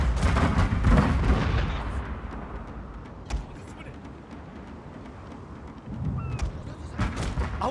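Ship cannons fire in a Total War Shogun 2 naval battle, with a dense cluster of booming shots at first, then a rumbling lull broken by a sharp crack and a few scattered blasts, before another burst of heavy fire.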